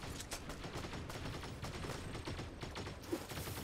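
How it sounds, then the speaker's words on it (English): Gunfire in Fortnite on the Zeppelin: rapid, dense bursts of shots and crackling fire run continuously at moderate distance, with a sharper single crack near the end. "There's gunfire on the Zeppelin."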